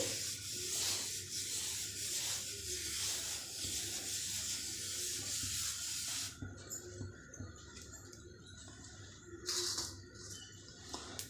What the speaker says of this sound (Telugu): టిష్యూ పేపర్తో అయితే తుడిచేసుకోవాలండి ఒకసారి